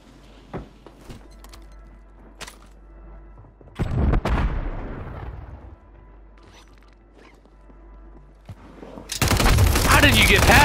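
Gunfire in a battle-royale video game bursts out in loud, dense volleys, one cluster around the middle and a heavier roar near the end, over quieter scattered thuds and game sounds, with little talk.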